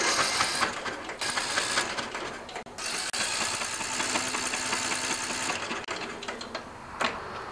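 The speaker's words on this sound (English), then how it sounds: "I'm going to turn the key over to make sure the starter is still good" A lawn tractor's electric starter cranks a Briggs & Stratton OHV engine with the spark plug removed, giving a steady, fast mechanical whirring and churning that runs close and loud for several seconds with brief dips, and no talking.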